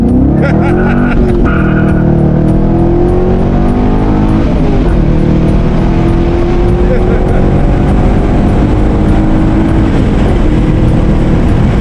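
2001 Chevrolet Corvette Z06 C5 V8 engine heard from inside during a ride along, loud and continuous, rising and falling through gear changes with rapid clicks early on and constant road roar.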